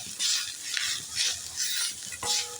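Grated coconut and jaggery sautéed in a pan over medium gas heat while making fried wheat-flour modak, with a soft sizzle and repeated scraping stirs in a slow rhythm, close and clear.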